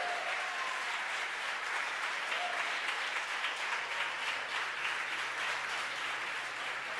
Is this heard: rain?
no